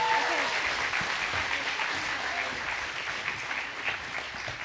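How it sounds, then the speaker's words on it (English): Audience at a community scholarship awards ceremony applauds the first group of students, steady moderate clapping that slowly eases in loudness over a few seconds. "Let's have a round of applause for our first group of students."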